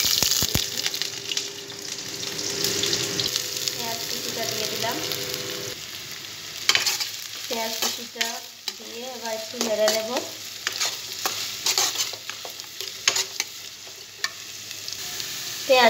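Whole garam masala spices fry in hot oil with sugar already caramelized red, a steady sizzle with stirring and scraping, bursts of crackling in the middle and brief tapping of the utensil.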